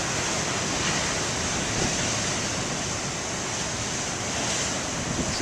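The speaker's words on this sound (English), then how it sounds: "we're here at Beaver Tail Lighthouse, having more of those beautiful waves" Ocean surf breaks and rushes continuously at Beavertail Lighthouse, a loud, broad roar of big waves with wind noise and no voices.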